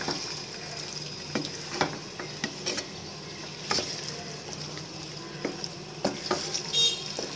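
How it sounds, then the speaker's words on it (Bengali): Beef bhuna frying over medium heat in a pan, a steady close sizzle broken by scattered scraping stirs and spatula knocks, with no one talking. "মাংসটাকে আবার একটু ভাজা ভাজা করব চুলা মিডিয়ামেই রেখেছি আমি"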